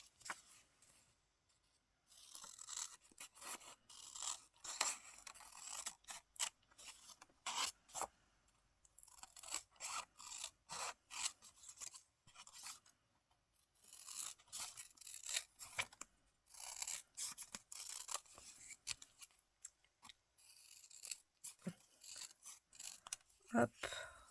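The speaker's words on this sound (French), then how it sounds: "On va découper le contour." Scissors cut around the outline of a paper piece for a collage art card, giving quiet, quick snips and rustling paper in irregular bursts.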